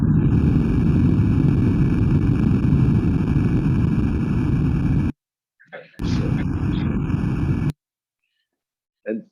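Recorded earthquake with the earth cracking, captured at poor quality for an underwater acoustics study: a loud, steady broadband roar for about five seconds, then cut off, followed by a couple of short, sharp bursts and a faint final thump.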